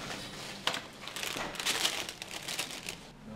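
A paper bag holding a bread roll crinkles and rustles close by for a few seconds as it is handed over, in irregular soft bursts with no talk.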